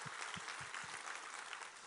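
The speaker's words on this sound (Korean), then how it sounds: "우리 하나님께 감사와 영광의 박수 올려드리겠습니다" A church congregation breaks into applause during a worship service, a steady wash of clapping hands with a few soft low thumps underneath, fairly even for about two seconds.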